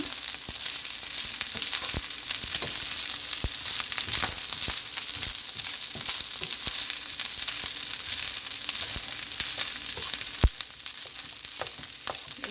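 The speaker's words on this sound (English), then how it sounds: "You hear that popping?" Shrimp and chicken fried rice, Jamaican style, sizzles and pops steadily in a hot pan with egg mashed in, a dense continuous fry broken by sharp individual pops, close and loud with no talking.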